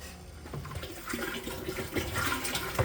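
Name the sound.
pond pump pumping backset liquid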